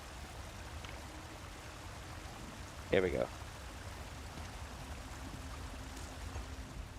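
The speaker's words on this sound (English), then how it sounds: "I'm gonna try to use this creek water to get cleaned up a little bit." Creek water in Elder Scrolls Online runs in a steady, soft wash throughout, with a brief louder splash midway as a character washes and someone speaks briefly.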